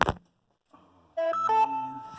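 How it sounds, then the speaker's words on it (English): A mobile phone sounds a text message alert indoors: a short knock, then a loud melodic electronic tone sequence that rings out alone. "got a text and it made my phone vibrate."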